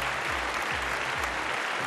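A studio audience on a televised talent show applauds to welcome a performer, a dense, even wash of clapping that stays steady from start to finish.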